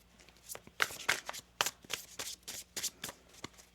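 Tarot cards being shuffled by hand, a quick run of crisp riffling and slapping bursts in an irregular rhythm, close and fairly quiet, with no talking.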